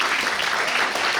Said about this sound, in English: Big round of applause for Paul Jaffe.